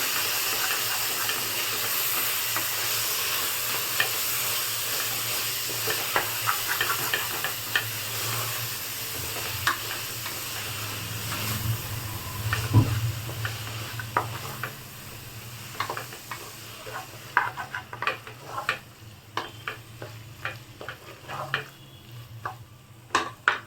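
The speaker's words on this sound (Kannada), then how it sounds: "ಚೆನ್ನಾಗಿ ಫ್ರೈ ಮಾಡಿ ಟೊಮೆಟೊ ಸಾಫ್ಟ್ ಆಗೋವರೆಗೂ ಚೆನ್ನಾಗಿ ಫ್ರೈ ಮಾಡಿ" Mushroom biryani masala with tomato frying in a pan, a low steady sizzle and hiss with a swell midway, then increasingly frequent clicks and scrapes of stirring toward the end, moderately close and without talk.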